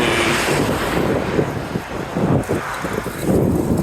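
Crosswind buffeting a cyclist's microphone on a road shoulder, a constant loud rumbling roar with gusty swells and dips, no voices.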